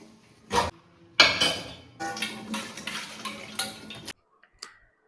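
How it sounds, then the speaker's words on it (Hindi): Dishes, pots and utensils being washed after lunch in a home kitchen: repeated clattering and scraping of metal and crockery with splashing water in bursts, fairly close, then a quiet tail with faint clinks; no talking. "अब धोने हैं मुझे बर्तन।"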